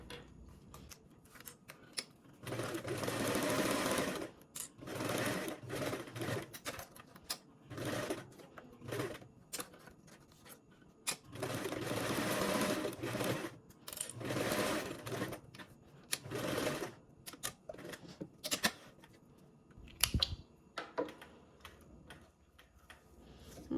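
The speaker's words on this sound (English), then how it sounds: "we are going to go ahead and top stitch around the perimeter to start creating our tab" Sewing machine top stitching around the perimeter of a fabric tab, running in bursts of rapid mechanical clatter separated by short pauses and soft clicks.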